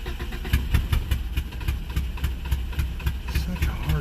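Small one-cylinder hit-and-miss engine trying to start and run, uneven chugging thumps and knocks close by with irregular firing, with a voice speaking briefly over it.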